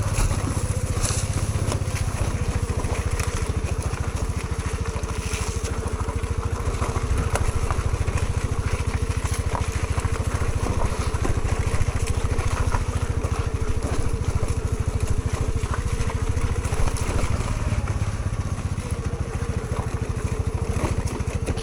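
A small Honda Navi motorcycle engine drones steadily and close up while riding offroad, with a continuous rough thrum and no pauses from start to finish.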